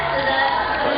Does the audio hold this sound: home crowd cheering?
yes